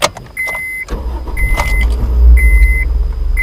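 A car engine cranks and catches after several repeating dashboard warning beeps, then settles into a loud, throbbing idle that surges once and steadies.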